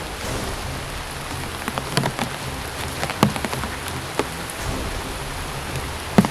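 Heavy rain pours steadily, a dense, constant hiss of water on surfaces with occasional sharper drops and splashes standing out, and no voices.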